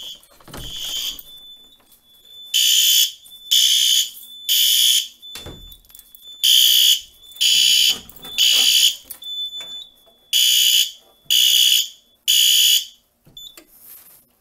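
A Simplex 4010 fire alarm system sounds loud, repeated, evenly timed electronic bursts with short gaps between them, alone, with no talk over it.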